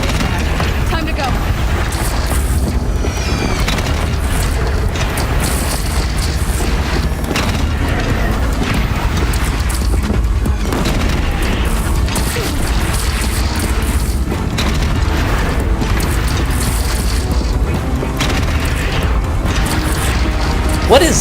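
Cannons in Horizon Zero Dawn fire at the Deathbringer machine in a continuous barrage of heavy booms and crashing impacts over mechanical clatter, loud throughout, with voices talking over the battle.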